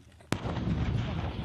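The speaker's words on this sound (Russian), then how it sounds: "стрельба по мишеням боевыми снарядами" A tank cannon fires a live round at targets during a crew readiness competition. It gives one sharp, sudden blast, followed by a long rumble mixed with wind noise.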